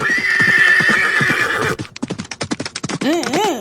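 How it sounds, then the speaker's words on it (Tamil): A cartoon horse gives a loud, drawn-out whinny, then its hooves beat out a rapid galloping clip-clop, followed by a short rising neigh, all close and prominent with no talk. "குதிரையிலயா போற?"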